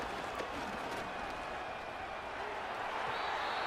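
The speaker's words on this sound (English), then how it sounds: "The crowd cranking it up another notch before 3rd and long." Stadium crowd noise from an American football video game forms a dense, steady roar that swells slightly toward the end, continuous and without pauses.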